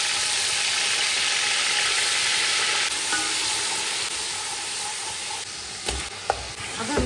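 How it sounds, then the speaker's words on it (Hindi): Chicken frying with ginger-garlic paste in hot oil over high heat, a steady close sizzle with stirring scrapes and a few sharp clinks near the end. "फिर मैं अदरक लहसुन डाल के उसमें चिकन भूनूंगी"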